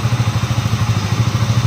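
A KTM Duke 200 BS6 motorcycle's single-cylinder engine runs at a steady idle just after being switched on, with a rapid, even low thumping that is loud and close, and no voices.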